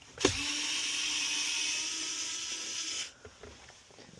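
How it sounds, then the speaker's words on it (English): An electric screwdriver whirring to undo dashboard screws in a VF Commodore: a sharp click, then about three seconds of steady high motor whine close by, cutting off into faint handling noises. "Helps if you do have a drill or electric screwdriver to undo these."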